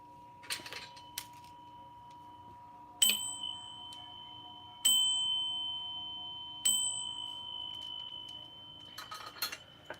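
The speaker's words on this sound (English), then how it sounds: "We're going to start with the ringing of the bell." A small bell rings three times at even intervals, each clear metallic strike ringing out and fading, with faint clicks and rustles around them.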